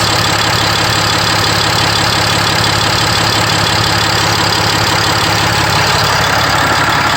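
A RAM 5500 pickup with a 6.7 Cummins diesel idles after a fuel filter replacement, a loud, steady, rough rumble with a faint knocking clatter, heard alone and close.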